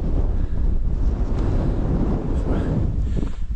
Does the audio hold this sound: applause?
no